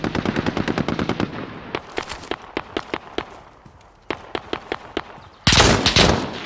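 Automatic gunfire crackles in the Call of Duty: Modern Warfare video game: rapid bursts of sharp shots, then scattered single cracks and short volleys, ending in a loud, dense barrage.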